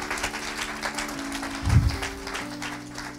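A church congregation applauding and cheering for the Lord during a sermon, scattered clapping and voices with a brief louder swell midway, sustained organ-like tones humming beneath.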